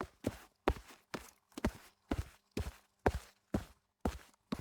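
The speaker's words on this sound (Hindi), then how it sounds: "दरवाजे पर किसी के तेज कदमों की आहट सुनाई दी।" Quick footsteps approach at a door, about ten distinct steps in an even, fast rhythm, fairly close and clear with no voices.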